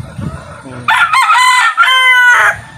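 A pet rooster with a cold crows once, loud and close, a drawn-out cock-a-doodle-doo following a few soft clucks.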